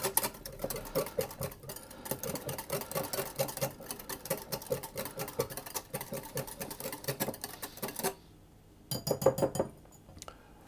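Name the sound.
whisking wet ingredients together in a bowl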